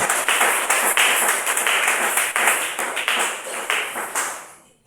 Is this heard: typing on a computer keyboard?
no